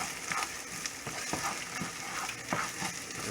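Butter and chorizo fat rendering and sizzling in a pan, a steady close crackle with soft spits and pops throughout, no voices.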